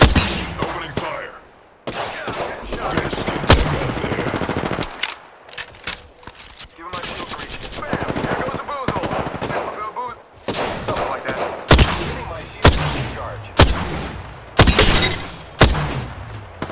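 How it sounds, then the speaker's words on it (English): Gunfire in the Apex Legends battle royale shooter, repeated bursts of shots with sharp loud cracks spread through the clip, mixed with game effects and some voice. "Opening fire."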